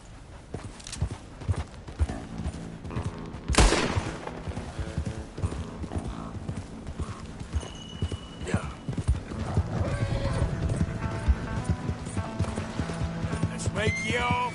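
Mustang horse galloping in the Red Dead Redemption 2 video game, a steady clip-clop of hooves with an occasional whinny, close and fairly loud, with a voice talking over it at times.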